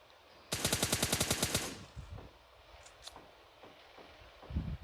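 Rapid automatic gunfire from the mobile game PUBG Mobile Lite, a burst of about a dozen evenly spaced shots, followed by faint scattered game sounds and a few distant thuds.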